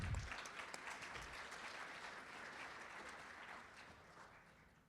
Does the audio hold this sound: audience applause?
yes